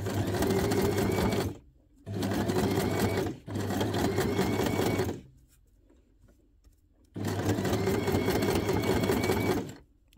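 A sewing machine stitches teeny paper scraps in a spiral, running in four fast bursts of steady close whirring separated by short pauses, with a faint voice in the quiet gap.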